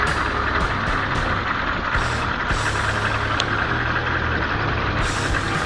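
A Chevy Silverado tow truck's 6.2-liter diesel engine idles close by with a steady, deep rumble that holds evenly throughout, with no voices.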